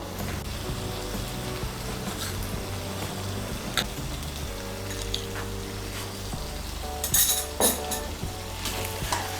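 Pumpkin pieces with salt, sugar and spices are stirred in a hot pan for a Bengali roast, giving a low sizzle with intermittent scraping and metallic clinks of the utensil against the pan; no talking.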